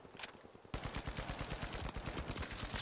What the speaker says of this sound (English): The whole lobby shooting at me.